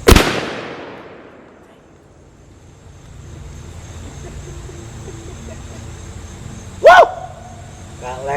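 A shotgun loaded with a turkey load fires one loud, close blast that rings out and fades over about two seconds, followed by quiet room tone and a short sharp noise near the end.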